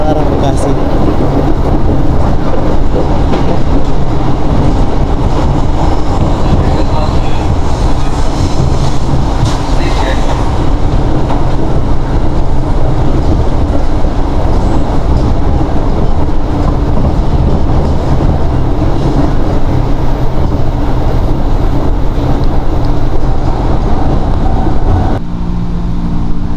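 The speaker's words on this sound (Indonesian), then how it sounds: "Datang KRL arah Bekasi" A KRL commuter train bound for Bekasi arrives at a station, a loud, steady rumble of wheels and carriages filling the full length and easing off only at the very end, with some background voices.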